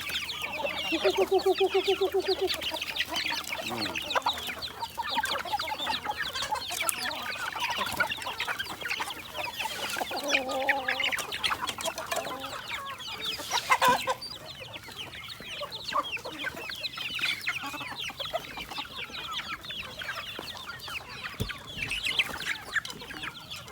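Thai native black chickens crossed with Kum chickens cluck and chatter close by on a farm. There are repeated short clucks and a drawn-out call early on, with scattered calls continuing over soft background noise.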